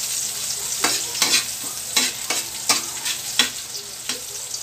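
Onion fries in a pan on a Filipino home stove while a long ladle stirs it, making rhythmic scraping strokes over a steady sizzle, close and clear.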